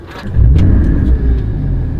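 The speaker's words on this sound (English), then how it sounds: "first I'm going to turn the car on" A Porsche Cayman GT4 engine cranks briefly and then catches, settling into a deep, loud rumbling idle close by after a few clicks.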